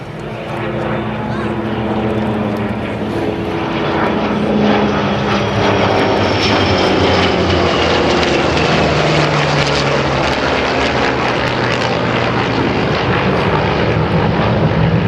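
A vintage Navy legacy flight of propeller aircraft passes overhead at an air show, a loud sustained drone that swells and shifts pitch as it goes by, with talk underneath.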